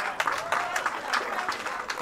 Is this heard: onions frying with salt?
no